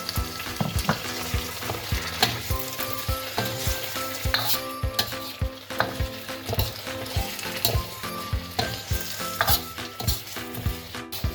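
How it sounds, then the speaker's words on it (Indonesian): Lemongrass, bay leaves, turmeric leaves and lime leaves fry in oil for a Minang chicken gulai. A loud, continuous sizzle plays under rhythmic, repeated scraping strokes of a spatula stirring the pan. "Tumis ini semua sampai mengeluarkan aroma wangi ya."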